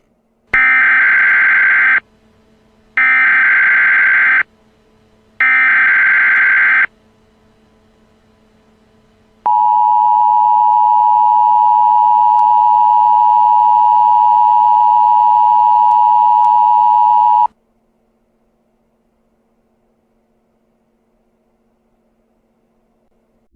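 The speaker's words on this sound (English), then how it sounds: "This is the National Emergency Alert System notification." Emergency Alert System attention signal ahead of an emergency action notification: three loud, evenly spaced two-tone bursts, then a long steady piercing tone of about eight seconds, followed by silence.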